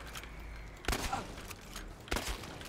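Two loud, sharp shotgun blasts from the first-person shooter game Chernobylite, spaced about a second apart, each with a booming tail, over a steady game background hum.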